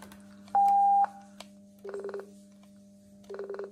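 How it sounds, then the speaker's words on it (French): A sharp electronic tone beeps once, followed by two short buzzy chirps over a steady low hum, like a radio's end-of-transmission beep. "on entend bien son propre Roger Bip"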